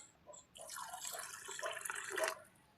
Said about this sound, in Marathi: आता आपण त्याच्यात पाणी ओतूयात